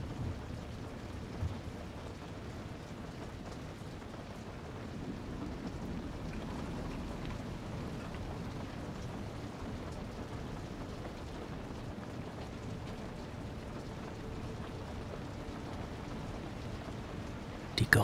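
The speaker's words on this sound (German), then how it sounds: "im Einklang mit dem stetigen Rhythmus des Regens draußen" Steady rain falls outside a windmill during a storm, a soft, even wash of noise with a low rumble underneath, quiet and unbroken.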